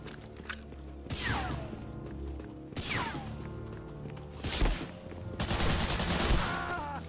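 Repeated gunfire in the World War II shooter Medal of Honor: Frontline during a docks level, with loud bursts of shots and mechanical clatter recurring every second or so, no talk.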